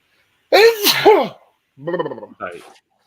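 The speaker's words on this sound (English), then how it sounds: "I'm about to sneeze" A single loud sneeze close by, a sharp gasping build-up followed by the explosive burst, then brief murmured vocal sounds afterward.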